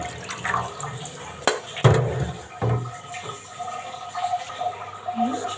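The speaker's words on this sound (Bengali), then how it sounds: "সামান্য একটু লবণ দিয়ে মাছটা ধুয়ে নিলে, মাছটা পরিষ্কার করে নিলে" Fish being rinsed in water with a little salt: close splashing and sloshing with a few sharper wet knocks and slaps, irregular and uneven, alone without talk.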